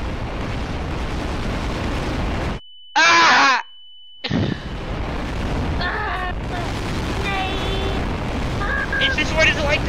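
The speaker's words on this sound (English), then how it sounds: "I just saw a bomb! There's bombs everywhere!" Bomb explosions in the video game Garry's Mod, heavy rumbling blasts and pops layered with bursts of noise, broken by a brief silent gap and a short tonal game sound, with crackling and whistling effects continuing after.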